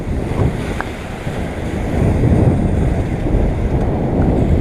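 Steady wind roars over a sailing yacht at sea, with waves rushing and sloshing against the hull in a constant, loud wash of noise, no voices present.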